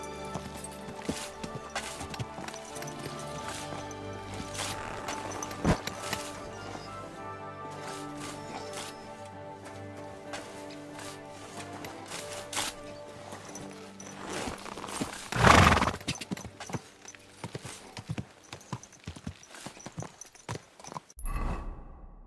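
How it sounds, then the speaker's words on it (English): Horse hooves clip-clop through a medieval game scene in Kingdom Come Deliverance 2, a steady walking rhythm under ambient noise, broken near the end by a louder burst and a few heavier thumps. "Watch out with that horse!"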